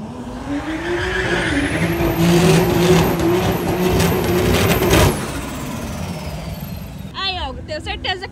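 Street drag race between cars including a BMW M4, with loud roaring engines revving up, a rising whine, and tire squeal, then fading as a voice begins speaking near the end.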